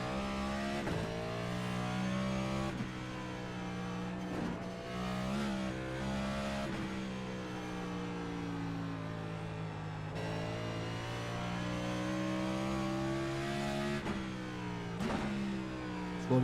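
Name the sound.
NASCAR race car engine revving on the Nordschleife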